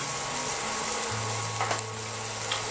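Shallots fry gently in a pan, a soft continuous sizzle with low background hum and a few faint stirring clicks, no voices.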